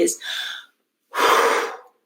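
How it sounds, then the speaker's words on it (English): Two long, forceful breaths, a sharp inhale and then a fuller exhale after a short pause, close and loud with no talking. "it's breathing. Okay. It's a lot of breathing."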